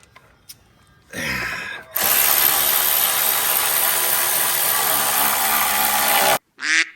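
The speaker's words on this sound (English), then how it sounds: "This is a long quarter drive socket." A ratchet on a long quarter-inch drive socket turns a screw holding sheet metal and plastic of a Jeep inner fender, a short clicking burst followed by a long, loud continuous whirring run close by.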